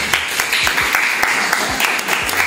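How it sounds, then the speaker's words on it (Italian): Applause for an artist at a visual poetry vernissage in Cremona, a steady patter of hand clapping from a small gathering, fairly close and continuous throughout. "le farei anche un applauso"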